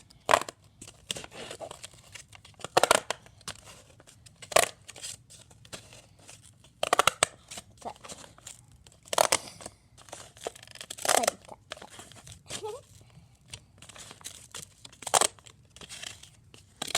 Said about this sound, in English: And cut out along these sides right here.